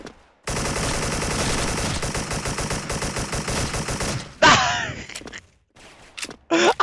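Sustained automatic gunfire rattles in the shooter game Special Force from an AK74 rifle, a dense rapid burst lasting several seconds, then a sharp louder shot and scattered short bursts with brief gaps between.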